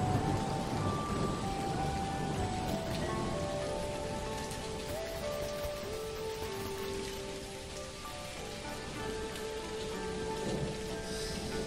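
Rain falls steadily in the video game Dinkum, a soft continuous patter on surfaces with a constant hiss and faint background tones, heard alone without voices.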